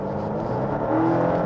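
Volvo S60 B5 with a 2.0-litre turbocharged engine accelerating, a steady close engine drone and whir building slightly in loudness over a short stretch.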